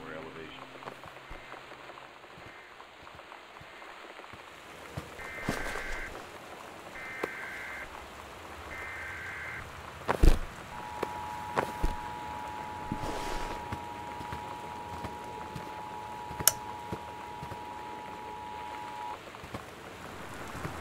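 Steady rain patters and hisses in a video game house scene, a continuous soft wash with scattered louder drop hits, while a voice talks over it and brief electronic tones sound.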